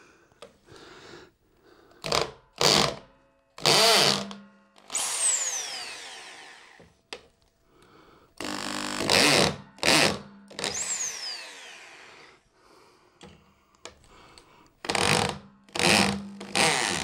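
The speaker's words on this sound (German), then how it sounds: "jetzt können wir natürlich die anderen Löcher bohren" A power drill bores holes in wood while a PC desk is being built, whirring in several close, loud bursts with short pauses between them and a rising spin-up whine in places.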